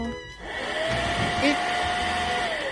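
A VIVRE cordless vacuum cleaner switches on and settles at its lowest power setting, giving a steady, fairly loud motor whir with a thin whine that rises briefly as it starts up.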